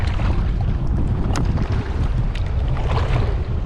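Kayak paddled through reeds along a shoreline, with steady close water swishes and rustling under constant wind noise on the microphone.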